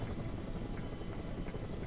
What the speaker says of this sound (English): CH-53 heavy lift helicopter here.